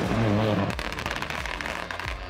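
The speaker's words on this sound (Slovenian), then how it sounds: "Tole glasno pokanje pa je predvsem zasluga anti-lag sistema, ki skrbi, da je pritisk turbine vselej v optimalnem območju." A rapid crackling string of sharp pops and bangs comes from the anti-lag exhaust of an Opel Corsa Rally4 rally car over a loud engine drone, close and dense for a couple of seconds.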